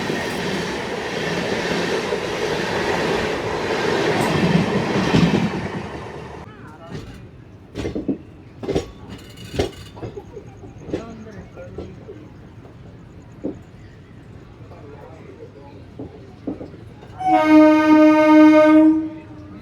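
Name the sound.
express train running on rails, Guntur to Rayagada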